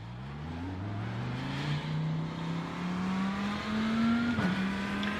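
An Audi race car lapping a track in the iRacing sim, its engine droning steadily and climbing in pitch through the gears, with a sharp shift or blip near the end, close and continuous.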